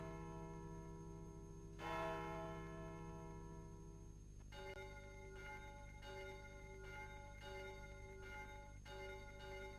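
Church bells ring out, one sustained bell swelling at first and then a run of regular rhythmic strikes, each tone resonant and lingering over a steady low background hum.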